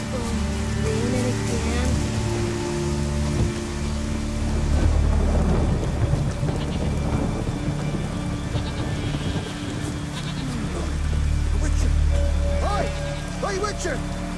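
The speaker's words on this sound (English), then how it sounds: "There's no point standing here in the rain." Heavy rain pours steadily in The Witcher 3 while low thunder rumbles swell and fade twice in the background, continuous and loud throughout.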